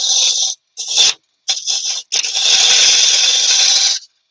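A carbide cutter trues up the inside of a wooden vase turning on a lathe, giving loud, close rasping bursts: three short scrapes separated by pauses, then one long sustained cut.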